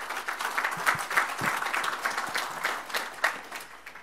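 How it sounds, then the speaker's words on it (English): Audience applause at a conference event, a steady wash of clapping from a crowd that holds fairly even for a few seconds at moderate distance. "Please greet her with applause."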